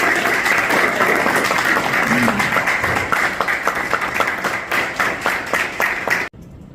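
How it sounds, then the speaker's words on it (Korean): Hearty crowd applause at a church press conference, dense and steady clapping from a large room that continues for several seconds before cutting off abruptly. "여러분 큰 박수 부탁드리겠습니다."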